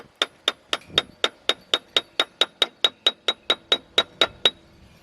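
A rubber mallet taps in a steady run of sharp, evenly spaced taps while fitting a water pump impeller, about four per second, each a short bright knock with a slight ring, close and fairly loud with nothing else heard.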